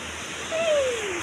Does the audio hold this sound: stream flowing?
yes